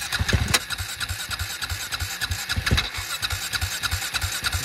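An ATV engine sputters to life and settles into a rough, pulsing idle with rhythmic low thumps and a few small throttle blips, close and fairly loud, with no talk.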